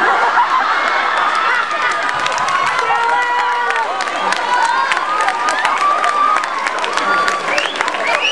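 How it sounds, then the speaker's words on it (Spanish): A live audience applauds a choir conductor at a secondary-school teachers' choir concert for Student Day, with sustained, dense clapping mixed with cheers and crowd chatter, loud and close throughout. "Por favor, un aplauso."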